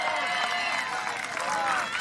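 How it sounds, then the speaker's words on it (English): Spectators clap and cheer at a Highland Games stone carry in the Peak District, a steady, fairly loud wash of crowd applause throughout. "everybody clapping in"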